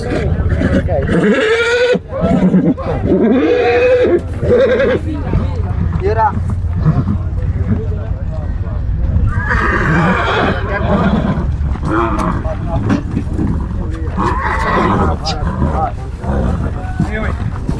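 A Sindhi stallion gives several loud neighs and snorting whinnies, close by, amid outdoor noise and people talking at a horse show.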